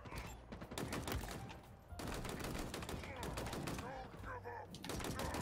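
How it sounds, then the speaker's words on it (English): Rapid gunfire in the shooter game Halo Infinite, dense bursts of shots and explosive cracks filling the whole stretch, loud and continuous with game sounds layered over it. "I'm shooting the Marines"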